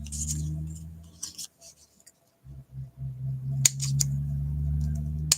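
Cheap, worn scissors snip paper close by in a few crisp cuts, over a steady low hum, with short quiet gaps between the snips.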